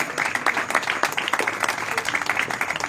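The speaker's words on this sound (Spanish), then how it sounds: "Dele un fuerte aplauso al Señor." A church congregation claps enthusiastically in a steady, uneven patter of many hands, with faint voices mixed in underneath.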